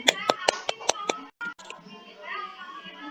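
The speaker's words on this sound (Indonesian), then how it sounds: "Tepuk tangan kawan-kawan." Children in a classroom give a short burst of applause with several sharp hand claps, followed by a mix of young voices chattering.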